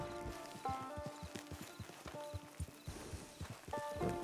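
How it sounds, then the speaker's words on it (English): Horse hooves clip-clop at a steady walking pace in the Red Dead Online video game, close and fairly loud, with a brief whinny and game ambience around them. "Get your horse."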